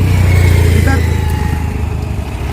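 A parked motorbike's engine runs up close as a steady, low, throbbing drone, with voices talking over it.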